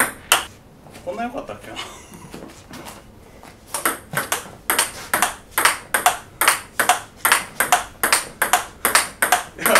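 Table tennis ball struck back and forth with a V>15 Extra rubbed bat, starting with a short spoken line and scattered knocks, then a quick, even rally of sharp, bright pocks close by.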